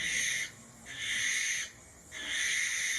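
A barn owl gives three long, harsh, hissing screeches, loud and close, each lasting about half a second to a second with short quiet gaps between them.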